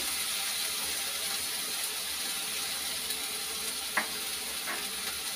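Tomato, cumin and ginger frying in a pan, giving a steady soft sizzle and hiss throughout, with a couple of brief clicks or scrapes near the end and no talking.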